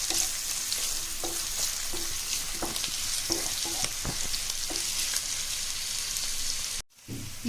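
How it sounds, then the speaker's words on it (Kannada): Two coarsely chopped onions fry in hot oil, a continuous crackling sizzle punctuated by regular stirring scrapes, close and steady, briefly cutting out near the end. "ಈಗ ನಾನು ದೊಡ್ಡದಾಗಿ ಹೆಚ್ಕೊಂಡಿರೋ 2 ಈರುಳ್ಳಿನ ಹಾಕೊಳ್ತಾ ಇದ್ದೀನಿ. ಇದನ್ನು ಚೆನ್ನಾಗಿ ಫ್ರೈ ಮಾಡ್ಕೋಬೇಕು."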